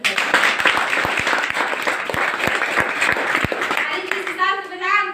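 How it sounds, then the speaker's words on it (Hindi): An audience at a Hindi talk on herbal products claps together on cue, a sustained patter of hands that gives way to someone speaking at the end. "एक बार ताली बजा के"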